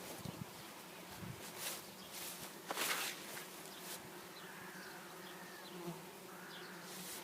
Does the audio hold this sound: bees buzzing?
yes